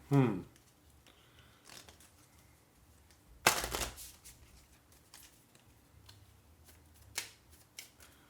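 Cards being shuffled during a Lawyer Up board game, a short crisp riffling burst near the middle amid quiet table handling and small taps, with no talking.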